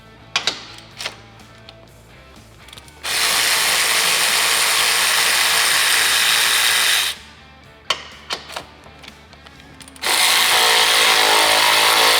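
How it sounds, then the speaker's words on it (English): A ratchet and power tool work the front differential bolts on a Honda Pioneer 1000, with sharp clicks and clacks followed by two long loud whirring bursts of a powered driver, close up with no speech. "We need to remove all four of these bolts now."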